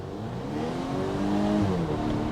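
A 2021 Volvo S60 B5 Inscription sedan engine revs and accelerates, its pitch climbing steadily, heard close and loud from inside the car with all four windows open, with some road and wind noise.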